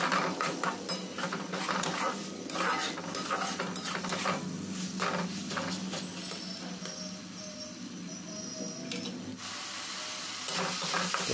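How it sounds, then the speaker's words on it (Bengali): A spoon stirring red lentils with spices in a pan, with metallic scraping and clinks against the pan and a faint sizzle underneath, steady and close for about eleven seconds. "ডালটা দিয়ে মশলার সঙ্গে এইভাবে মিক্স করতে হবে।"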